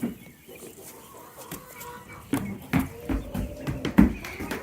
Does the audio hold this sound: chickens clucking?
yes